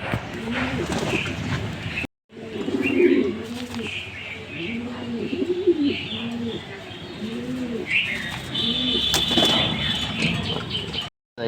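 Racing pigeons in a loft in Tangail, including a male, give a run of clear, rhythmic, repeated coos up close, mixed with a few higher chirps, while a voice talks intermittently.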